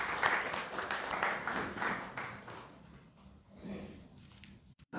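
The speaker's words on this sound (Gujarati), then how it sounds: "એમનું પણ આપણે ખૂબ તાળીઓના ગડગડાટથી સ્વાગત કરીએ" An audience at a Gujarati literary conversation event claps to welcome a guest, a burst of applause that fades out after a few seconds, with a brief pause and a small clatter at the end.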